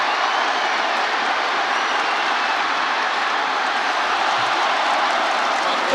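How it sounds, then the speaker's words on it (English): Steady, loud crowd roar fills a stadium at a Wagner Seahawks at Syracuse Orange college football game, a dense continuous wash of cheering that holds level throughout without breaks. "And you hear the crowd"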